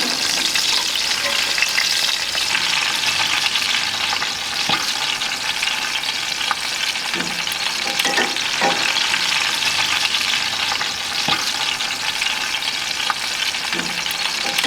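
Steaks cooked with beef tallow or clarified butter sear on a grill in a loud, unbroken sizzle lasting the whole stretch, dotted with occasional pops and crackles.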